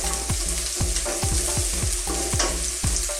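Chili, onion and carrots sauté in hot oil for sizzling gambas, with steady sizzling close by and a regular rhythm of utensil scrapes and taps against the pan.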